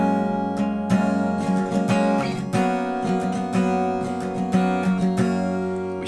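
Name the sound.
guitar playing chorus chord notes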